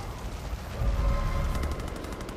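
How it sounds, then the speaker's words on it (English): Rapid gunfire in the Far Cry 5 video game, a dense rattling fusillade over a continuous low rumble, louder in the middle and with quick repeated bursts near the end. "What are they even shooting at?"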